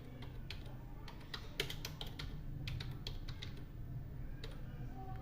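Rapid keystrokes on a computer keyboard while a name is typed into a Microsoft Word résumé, close and fairly quiet, with irregular bursts of clicks over a low steady background hum.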